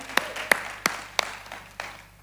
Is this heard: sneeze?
no